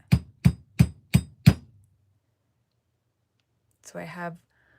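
Five quick, sharp hammer taps on jewelry wire ring out in an even rhythm, close up, followed by a pause and a brief murmur of speech.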